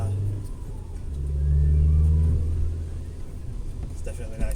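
A Honda Civic EK coupe's engine revs up through its intake, a deep throaty rise that swells and holds before easing back, with someone talking at the end.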